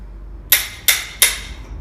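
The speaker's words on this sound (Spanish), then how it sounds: "Y con un martillo" Three sharp metallic hammer taps, spaced about a third of a second apart, drive a tube expander into copper pipe during a soldering lesson; each strike is close and bright, then quickly decays.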